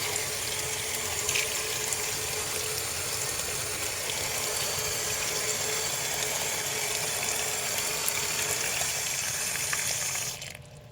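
Water runs steadily from a tap for about ten seconds, a constant rushing splash that stops abruptly at the end.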